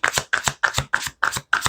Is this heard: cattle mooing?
no